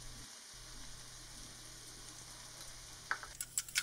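Leaves for koya gura fry sizzling in a pan, a faint, soft continuous frying hiss that turns into a few brief sharper crackles near the end, with no talk.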